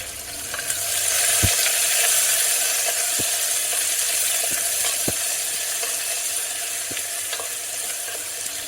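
Finely chopped onion frying with spices in oil inside a pressure cooker, a continuous crackling sizzle with occasional sharp clinks of a stirring spoon against the metal.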